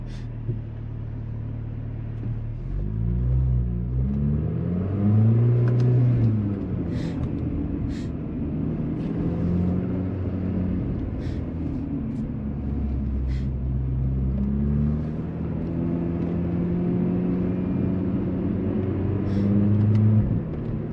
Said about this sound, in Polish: Bo te 2 litry brzmią genialnie, naprawdę.